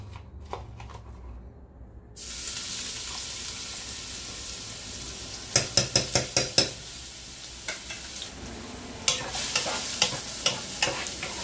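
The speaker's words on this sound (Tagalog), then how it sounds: "And then, we put the bawang." Garlic sizzles loudly in a hot pan for pork adobo, a steady hiss that starts abruptly after a quieter opening and is punctuated by bursts of sharp scraping stirs near the end.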